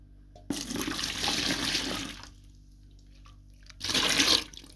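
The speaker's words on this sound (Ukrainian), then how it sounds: "Цю суміш зараз я виливаю у відро." Liquid fertilizer mixture for feeding cucumbers is poured into a bucket, giving a close, splashing pour of about two seconds, a brief lull with faint trickles, then a second short burst of pouring.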